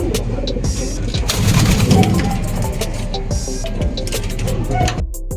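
A racing pigeon coos close by, soft repeated throaty calls over busy loft noise with fluttering and shuffling, and a person speaks briefly amid the sounds.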